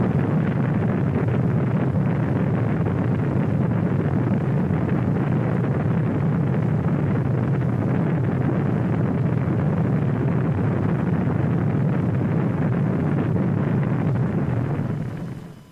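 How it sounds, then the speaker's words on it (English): Space shuttle rocket propulsion roars as steady, loud, broadband thrust with heavy low-end rumble, continuous throughout and fading out only at the very end, with no voices. "The raw thrust of rocket propulsion."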